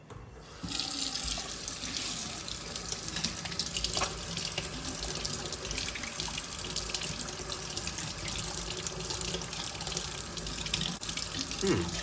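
A kitchen tap runs cold water steadily into a sink, a continuous splashing rush lasting throughout at moderate loudness with no talk.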